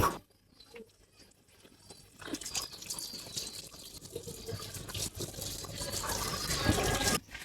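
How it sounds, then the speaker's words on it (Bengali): Water runs steadily over a pair of hands being washed, splashing continuously and growing fuller after a brief quiet start, with no talking. "আমার হাত ধোয়া কমপ্লিট"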